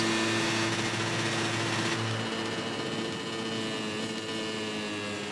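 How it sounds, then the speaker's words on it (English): A MotoGP 19 racing motorcycle with an upgraded engine holds a steady, high-pitched whine at sustained speed, the tone shifting slightly as it continues, loud and constant throughout with no talk. "Loving that engine upgrade."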